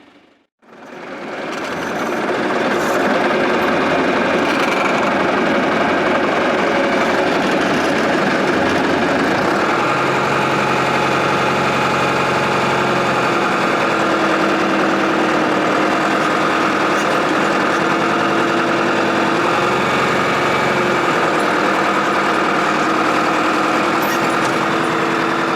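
A Husqvarna 562 chainsaw with a 28-inch bar starts up and runs steadily and loudly for a long stretch while cutting a hollow ash tree. The engine tone wavers slightly as the load changes, and no voices are heard.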